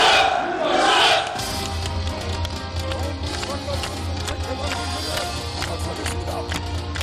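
Large crowd of military construction workers at a groundbreaking ceremony in Pyongwon County, North Korea, roaring a battle cry in unison; the loud shout rises at the start, then fades into a sustained murmur and rumble.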